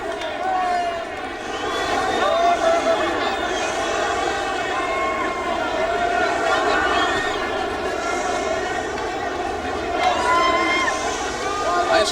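A golf gallery roars in a long, sustained ovation after a hole in one, the cheering crowd loud and continuous throughout with a broad wash of voices, surging again near the end.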